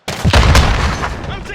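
A grenade blast in the shooter game Call of Duty Modern Warfare hits hard and loud, a heavy boom with a long rumbling tail that fades slowly over about a second and a half, with other game noise underneath.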